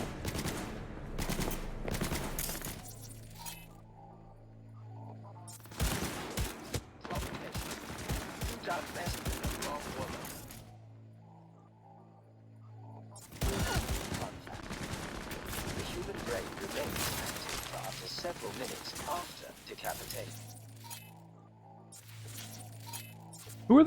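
Bursts of automatic gunfire and rapid shots from a firefight in the video game Cyberpunk 2077, loud and dense, coming in several long volleys separated by calmer stretches with a low music hum and faint clinks.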